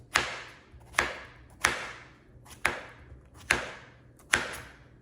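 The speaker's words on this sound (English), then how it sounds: "They're soft and really easy to cut without any pressure." A knife chops through soft zucchini and squash on a board, six evenly spaced crisp cuts with sharp onsets and short decays, close and clear with no talk.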